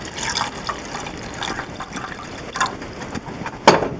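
Pineapple juice and teriyaki sauce pour into a pan as a soft, trickling liquid splash with a few small drips and clinks. It is close and fairly quiet, with no talking.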